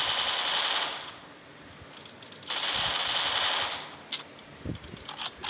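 Shotgun fire in a video game: loud bursts of gunfire, a long one at the start and another in the middle, with sharper single shots near the end and quieter gaps between.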